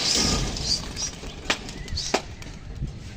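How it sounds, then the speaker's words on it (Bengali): A flurry of wings flaps as a flock of nine pigeons takes off, with a few sharp wingclaps standing out before the fluttering fades. "পায়রা উড়ানো হয়ে গেল। অনেকগুলা পায়রা উড়ে গেছে।"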